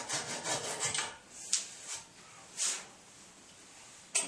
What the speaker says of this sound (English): Trim off the pegs as we go along just to make it a bit easier to get to again.